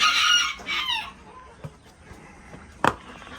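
Quail call from breeder cages in a backyard setup: a loud, shrill burst of calling opens, then fades into quiet with a few short, sharp chirps near and far.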